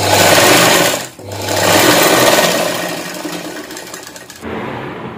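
Close, loud whirring of a sewing machine stitching a blouse, running in two long bursts with a brief break between them, then a lighter, quieter run at the end.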